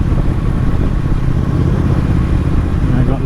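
A Triumph Speed Twin motorcycle from 2019 runs with a steady, loud engine drone and rumble while being ridden, with wind noise constant throughout and no voices.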